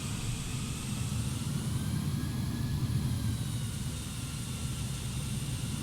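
Steady droning hum from the six engines of an Antonov An-225 Mriya cargo plane in Microsoft Flight Simulator, with a low rumble and faint whining tones, constant and unbroken.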